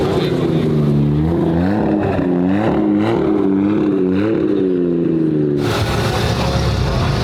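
Lamborghini SVJ engine revving hard and close, rising and falling in repeated surges before a sharp roaring climb, loud and alone.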